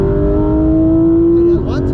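A Porsche accelerating on a race track, its engine holding a steady, loud drone that shifts pitch near the end, with a voice speaking over it.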